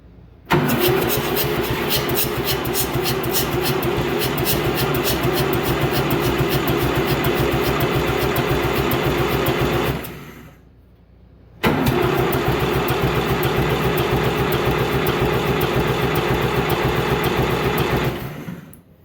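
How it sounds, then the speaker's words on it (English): The engine of a David Brown Prairie Cropmaster tractor cranks over on a rebuilt starter, a loud rhythmic chugging that runs for about ten seconds, stops briefly, then starts again for another seven seconds without catching. "We rebuilt the starter, was what we finished up today, and we're gonna get the first crank in a long time on it here on film."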